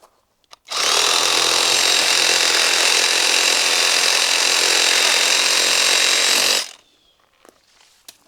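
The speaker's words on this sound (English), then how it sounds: "This right here needs to definitely be a little shorter, but it needs a sawzall on it." A reciprocating saw cuts through a fig tree branch outdoors, one loud, steady buzzing burst lasting about six seconds that starts and stops abruptly, with quiet before and after.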